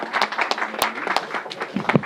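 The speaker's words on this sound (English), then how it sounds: "And give a big round of applause to Mark Morial." A crowd at an indoor church gathering claps for Mark Morial, dense applause with a few sharper, closer claps rising out of it throughout the short burst.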